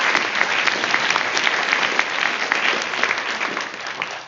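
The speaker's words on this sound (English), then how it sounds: "Okay, so now you can applaud." An audience claps steadily after being invited to at a 2016 ASTMH presidential address, a dense, sustained applause that carries evenly throughout without any talk over it.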